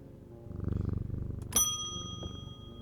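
Cat purring in the Strange Antiquities video game, a close, rhythmic low rumble that swells and holds, followed by a bright ringing chime that lingers as the purr continues softly.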